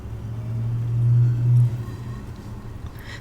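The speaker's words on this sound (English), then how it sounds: "The sound of a car starting is coming from outside the door." A car starts up outside a door in a nighttime video game scene near a funeral shed, giving a low, steady engine rumble that swells briefly and then settles into a continuous idle.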